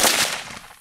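AR-15 rifle shot fired at a laptop target, a single loud close blast that decays quickly into its echo, with no talk.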